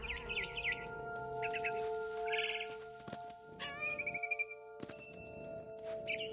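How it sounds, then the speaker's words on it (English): A barn swallow chirps in What Remains of Edith Finch, with short bright twittering trills repeating in bursts over steady ambient game music tones. "Then I heard chirping outside my window. It was a barn swallow going back to her nest."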